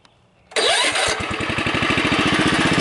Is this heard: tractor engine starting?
yes